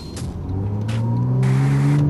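A tuned Porsche engine fitted with a light flywheel revs quickly, its pitch climbing steadily in a loud, close, continuous rise with no talking.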